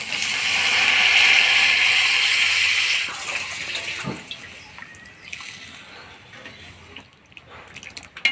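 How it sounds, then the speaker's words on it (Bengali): Boiled black gram dal with fried prawns pours into a pan in a loud, steady watery gush for about three seconds, then gives way to quieter sloshing, stirring and faint clinks. "এবার সিদ্ধ করা মাসকলাইয়ের ডাল দিয়ে দেবো"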